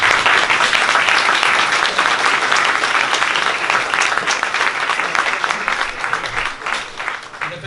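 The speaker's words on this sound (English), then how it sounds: "Can I get a round of applause for our panel?" Audience applause for a trading panel at a Hong Kong roadshow, dense sustained clapping from a room full of people that slowly thins toward the end.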